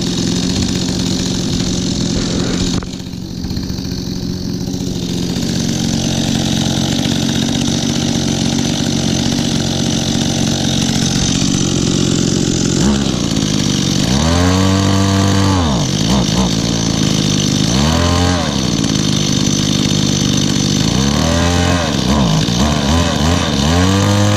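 A chainsaw engine idles loudly and continuously, its rough drone rising into a few short revving swells toward the end.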